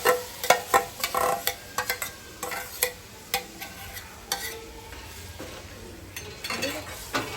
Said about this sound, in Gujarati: આપણે જે પલાળીને રાખી હતી ને એ દાળ પલાળીને અંદર નાખી દેવાની.